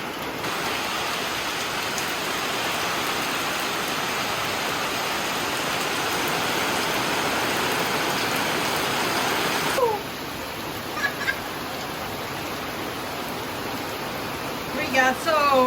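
Steady rain hisses outside for about ten seconds, then the wash drops quieter, with a few faint taps and clicks near the end.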